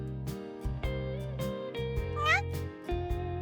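A cartoonish cat meow from the video game Café Stella, one short rising chirp over a steady bed of background music with chiming notes, loud and close.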